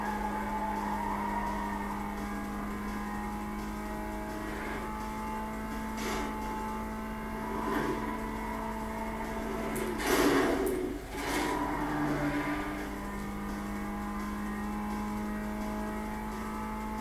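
Race car engines in the Need for Speed Most Wanted video game, a steady hum with engine revs swelling and fading, plus a louder burst midway like a car rushing past, no voices.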